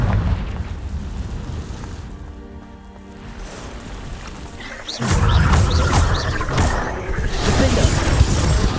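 A Confringo blasting spell explodes in Hogwarts Legacy, a loud sudden burst at the midpoint giving way to a sustained roaring, crackling rumble with repeated sharp impacts that stays loud to the end.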